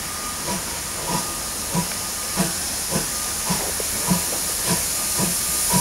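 A steam train hisses with a steady, loud wash of escaping steam at an Essendon steam shuttle event, while soft rhythmic chuffing beats pulse about twice per second underneath.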